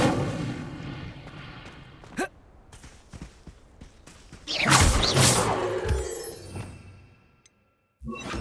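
The Incendio fire spell is cast in the Hogwarts Legacy video game, bursting into a loud whooshing blast with crackling debris. It follows a sharp hit and scattered impacts, then fades into near silence before another sound begins.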